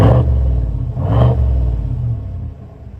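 A 2021 GMC Sierra Denali's 6.2-liter V8 with a catback exhaust revs twice in quick succession, a loud, deep burbling roar that swells, dips and settles back toward idle.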